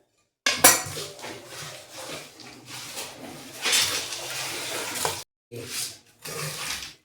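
Roasted coconut and ground cashews and almonds are stirred together for suva pak, a spoon scraping and clattering against a metal vessel in close bursts with a couple of brief pauses.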